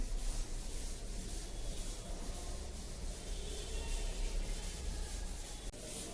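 A duster or eraser rubs writing off a classroom board, giving steady, continuous scrubbing friction for several seconds, close and fairly quiet, with no talk.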